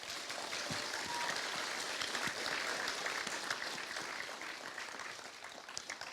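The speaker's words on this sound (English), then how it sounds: "Let's give them a round of applause," Audience at a high school junior prizegiving applauds, a sustained, even wash of many hands clapping in a hall, moderately loud and unbroken throughout.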